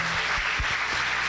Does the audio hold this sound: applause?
yes